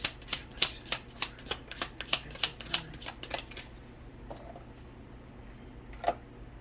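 Tarot cards being shuffled for a reading, a quick run of crisp riffling flicks in a steady rhythm that slows and fades, with one last snap near the end, close and alone.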